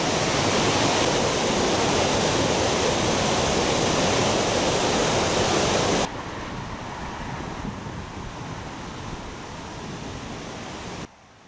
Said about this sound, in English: I do love the sound of rushing water.